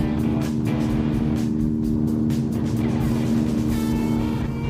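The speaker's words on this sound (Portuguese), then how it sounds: "vamos tentar andar em sexta marcha" Steady engine drone from a modified Subaru car cruising in sixth gear, a constant low hum with road noise running evenly throughout.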